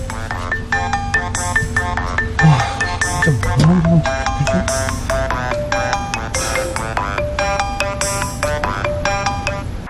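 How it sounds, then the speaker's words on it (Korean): A phone rings over and over in a steady repeating electronic pattern, loud and close, with faint background voices and murmur underneath. "무시해도 전화는 끊임없이 울렸는데요"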